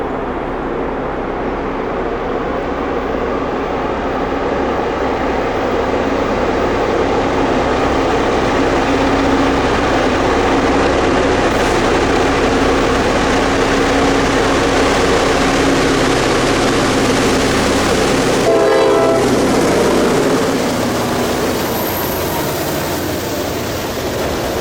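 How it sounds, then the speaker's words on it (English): A CSX freight train approaches with wide-open EMD diesel locomotives, a loud, steady engine roar that holds for the full stretch and builds slightly, with a brief horn-like tonal burst near the end. "the sublime sounds of wide-open EMDs approaching as the engineer"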